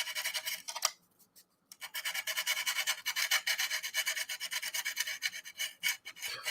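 Rhythmic back-and-forth hand sanding, close and steady, with a short pause near the start before the rasping strokes continue.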